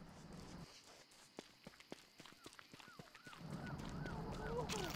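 A turkey gobbler in Don't Starve Together gobbles in a quick series of honking calls after a run of footstep-like taps, rising in loudness toward the end with no talk.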